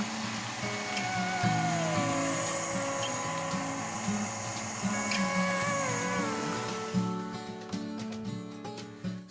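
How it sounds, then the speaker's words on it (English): An electric mixer whirring at medium speed through egg whites for a chocolate pavlova, a steady close motor whine with wavering pitch and light beater rattle, cutting out near the end. "Then beat the egg whites at medium speed until they begin to foam."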